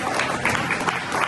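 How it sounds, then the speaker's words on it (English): An audience at a Cape May Cares fundraiser applauds, a brief wash of dense clapping and crowd noise heard from a distance at moderate volume. "Give yourselves a round of applause"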